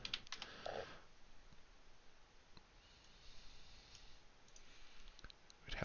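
A computer keyboard is typed on in quiet bursts of soft, close clicks, with a short pause in the middle before the tapping picks up again.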